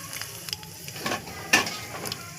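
Black cumin seeds and a dried chili sizzling in hot oil as a tempering for a yogurt hilsa dish, a soft crackling fry with intermittent sharp spits and pops and a few light scrapes, close and without voices.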